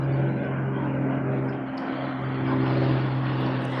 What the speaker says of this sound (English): I'm hearing airplanes.